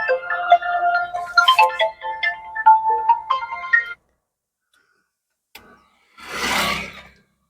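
Phone ringtone playing a bright melodic tune for about four seconds, then stopping, followed after a pause by a short click and a brief noisy burst; loud and close with no speech.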